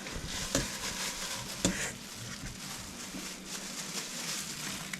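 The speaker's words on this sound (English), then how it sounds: "we're just going to put these all in the skillet" Swedish meatballs made from two pounds of meat sizzle and fry steadily in a skillet, a continuous close crackle with a couple of sharper clicks as they are placed and moved.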